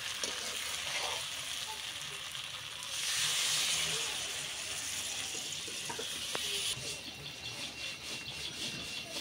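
Mutton curry cooked with homemade spices hisses steadily in the pan, then water is poured in and the sizzle swells into a louder, rougher burst for a moment before settling back to a constant frying hiss.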